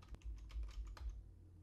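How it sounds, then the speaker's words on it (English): A short burst of keystrokes on a computer keyboard as a Windows command is typed into the Run dialog, quick close clicks in an uneven rhythm, then a brief pause, in a quiet room. "type RegEdit."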